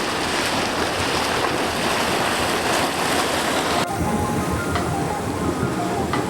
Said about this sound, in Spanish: está el agua burbujeante